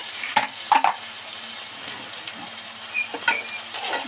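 Rice frying in ghee with bay leaves over a low flame, a steady soft sizzle and hiss with several scraping, clinking stirs of a spoon against the pan, close and without talk.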